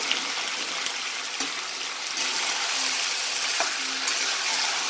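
Chicken kosha is stirred in a pan, a steady sizzling fry with soft scraping strokes running throughout, fairly close and continuous with no voices.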